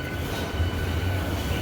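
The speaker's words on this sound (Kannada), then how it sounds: "ಸೊ ಟ್ರೈನ್ ಇದಾಯ್ತು" A train moving past at a railway station on the way to the Hassan Hasanamba temple, a steady close rumble with a faint high tone above it, continuous for the whole moment with no voices.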